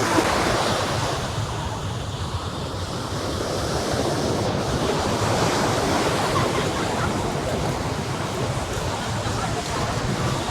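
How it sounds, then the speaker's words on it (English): Ocean waves roll in on a beach in Vietnam, a loud continuous roar of surf and foam with wind noise buffeting the microphone throughout. "Cool waves are rolling in, and I love waves like these."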